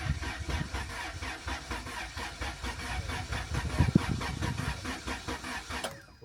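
A rebuilt car engine being started with a jump pack cranks in a fast, even rhythmic chug that holds steady for several seconds, moderately loud and close, with a brief clank near the end.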